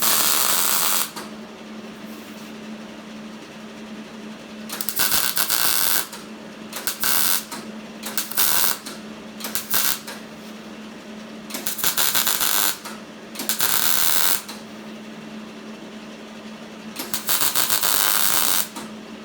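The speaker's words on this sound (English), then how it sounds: "I'll run my welds over top of these a little bit, just to make sure it's completely" Welding a patch onto a rusty crew cab truck door: several loud bursts of crackling, hissing arc noise of varying length, separated by short quiet pauses over a low steady hum.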